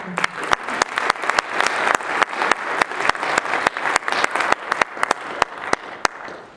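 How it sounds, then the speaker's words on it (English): An audience claps for a speaker at a real estate investing talk, a full and continuous wash of applause with several sharp, distinct claps standing out close by, steady throughout before tapering at the end. "So let's have a big round of applause for Justin"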